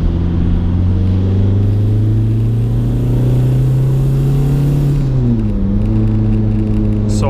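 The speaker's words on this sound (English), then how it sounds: "we're gonna try a little pull here, see how the actuator is working and what kind of boost I'm getting" An Audi TDI with a freshly replaced VNT turbo and a small tune, warmed up and pulling hard on a test run. The engine drone is loud and steady, holding a rising note that dips briefly at one point, with no talk.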